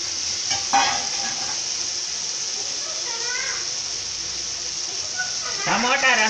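Masala paste frying in a pan for capsicum curry, with a loud, continuous hiss and sizzle close up, and brief snatches of children's voices in the background.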